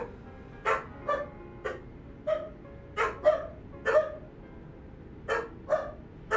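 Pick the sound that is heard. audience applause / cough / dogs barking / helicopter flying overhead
dogs barking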